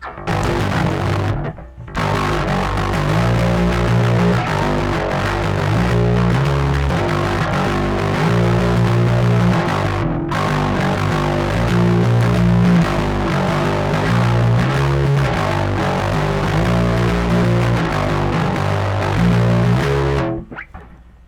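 Electric guitar played through a distortion pedal with its filter knob turned fully left, giving a thick, dark, sustained fuzz of chords, loud and continuous with two short breaks.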